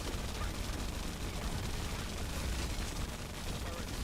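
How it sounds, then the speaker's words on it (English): Dense, continuous roar of game explosions and gunfire effects during a chaotic video game boss fight, loud and cluttered throughout with no clear gaps between blasts. "like all these explosions, all this noise clutter"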